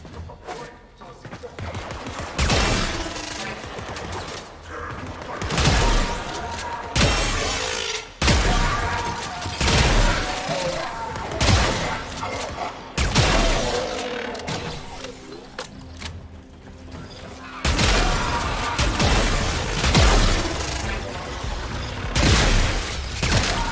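Bursts of primary-weapon gunfire in Warframe, loud rattling volleys broken by short pauses and overlaid with game effects.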